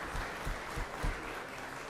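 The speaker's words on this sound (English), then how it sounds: "Let's give Mike Crane a round of applause." Applause in a state senate chamber for a former senator, a steady patter of claps with a few louder bursts, moderately distant and continuous for about two seconds.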